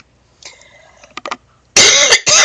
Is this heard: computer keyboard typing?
no